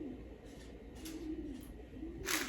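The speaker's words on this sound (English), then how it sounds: "Do you hear that bird?" Pigeon or dove cooing outdoors beside a pool, a soft, low, repeated warble heard faintly in a steady outdoor ambience.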